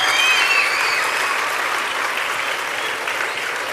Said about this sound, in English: A louder round of applause for our speaker